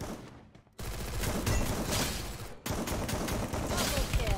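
Sustained gunfire from Free Fire Max, a mobile battle royale game, with dense overlapping shots in fast bursts, loud and close, broken by two brief pauses.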